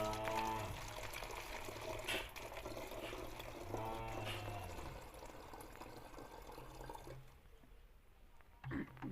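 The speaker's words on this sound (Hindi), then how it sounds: "इस बोतल में आधा बोतल पानी भर लेना है।" Water pours into a plastic bottle being half filled for a bottle rocket experiment, a soft gurgling fill at low level that rises in pitch, pauses, then ends with a couple of brief splashes.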